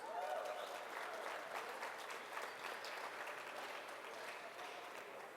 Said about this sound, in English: let's give a round of applause for Mr. Luis Moreno.